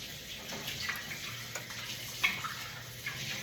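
Tap water runs steadily over a baking tray being rinsed in a kitchen sink, a soft continuous splash with a few brief clatters, fairly quiet and alone.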